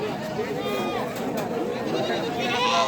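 Goats bleat in repeated calls amid the bustle of a crowded livestock market at Birampur haat, and people talk and chatter throughout.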